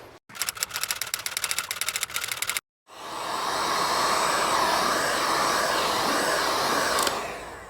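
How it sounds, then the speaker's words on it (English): Heat gun blowing hot air onto a car's front fender to soften the metal for paintless dent repair, a steady loud whooshing roar that follows a brief rattling, buzzing stretch and a short gap. "I need to warm up the area with a heat gun."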